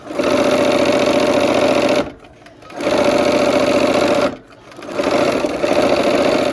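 A sewing machine runs a long quilt seam in three sustained bursts of rapid, buzzing stitching, loud and close, separated by brief pauses.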